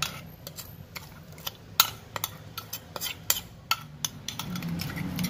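Mongolian noodle sauce cooking in a pan with about 60 ml of water added, a soft steady sizzle under frequent light clinks and scrapes of a utensil against the pan, close by.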